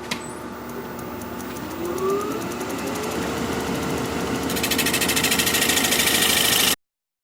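A woodturning tool is sharpened against a motor-driven machine, first a steady mechanical hum with a rising whine, then a rapid buzzing grind that grows louder before cutting off abruptly.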